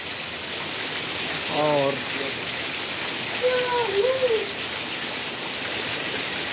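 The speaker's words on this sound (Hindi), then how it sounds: "आप देख सकते कितनी टेढ़ी बारिश हो रही है और हवा भी खूब चल रहा है।" Heavy, steady rain with strong gusting wind, recorded outdoors near trees as a dense, continuous hiss that fills the whole stretch, with someone talking briefly over it.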